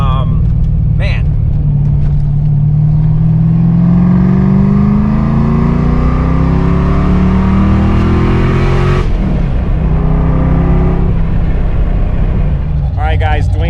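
Ford Foxbody Mustang accelerating hard, its engine roaring loud and close as the revs climb steadily through a long pull, then a gear change and another climb, with voices briefly heard in the cabin.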